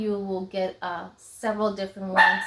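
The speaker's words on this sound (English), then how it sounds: "Excuse my dog, the front door is open" A pet dog barks repeatedly near an open front door, sharp loud yaps in quick bursts with a brief whimper, someone talking over and between the barks.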